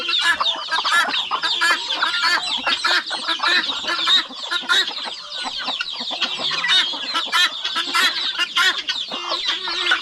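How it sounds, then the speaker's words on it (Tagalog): A flock of chickens clucks and chatters continuously, with many overlapping calls close by and a few louder squawks rising above the busy noise. "Marami naman yung mga manok natin dito."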